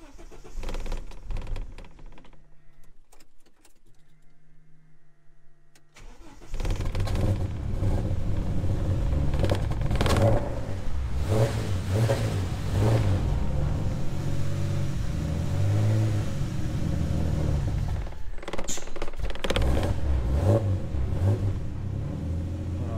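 A cold Ford Falcon AU turbo ute engine cranks briefly, stalls, then catches around six seconds and runs loud and rough, revved and held high, close by.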